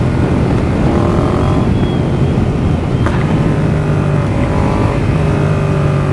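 A 2018 Yamaha MT-07 motorcycle on a test ride gives a steady, loud engine drone with changing revs under heavy wind rush, close to the microphone and continuous throughout.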